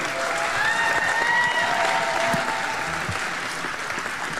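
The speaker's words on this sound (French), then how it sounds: "Mesdames et messieurs, on les applaudit chaudement." Warm, sustained applause from a crowd at a stage show, loud and dense, with a few faint whistles or cheers mixed into the clapping.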